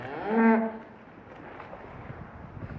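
A steer being sorted for beef lets out a single loud, drawn-out moo close by. Blustery wind and farmyard noise follow.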